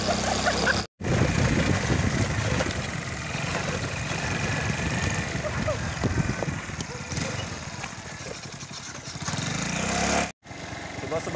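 A motorbike ridden one-handed at a slow pace through town in the morning, its engine droning steadily and fairly loud throughout, with a couple of brief dropouts and voices talking over it.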